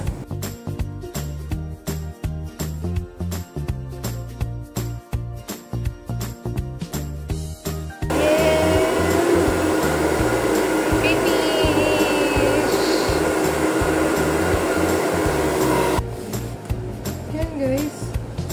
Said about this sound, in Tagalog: Mag-blow dryer na tayo,